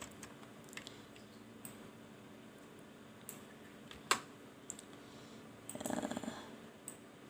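Quiet, sparse keyboard clicks while entering formulas in a spreadsheet, with one sharper, louder keystroke and a short cluster of taps near the end.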